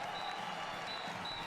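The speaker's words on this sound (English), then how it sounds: "A standing ovation for players on both sides." A standing ovation from the crowd after a Rio 2016 Paralympic 5-a-side football match between Argentina and Mexico: steady, dense applause and cheering from a stadium audience, continuous and moderately loud throughout.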